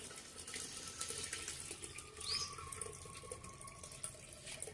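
Water with sorghum grits strained through a sieve into a pot, a quiet continuous trickling and splashing flow, close but faint, with no talk.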